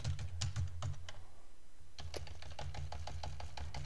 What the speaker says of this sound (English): Got to buy a new keyboard. Some of my keys are sticking